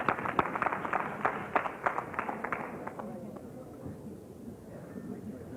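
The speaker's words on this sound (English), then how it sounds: "Let's give him a round of applause." Wedding guests give a round of applause. The clapping is dense and lively for about three seconds, then thins out and fades to a quiet murmur of the room.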